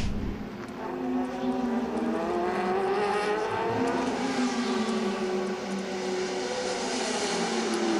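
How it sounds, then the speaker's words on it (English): An Audi prototype race car at the 2013 WEC 6 Hours of Bahrain loses speed, its engine tone wavering and drifting through layered harmonics at moderate distance, sustained and unbroken. "It's the number 2 Audi, John, which has suddenly slowed down."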